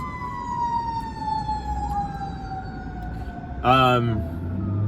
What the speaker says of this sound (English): It's a fire engine pulling right out in front of me.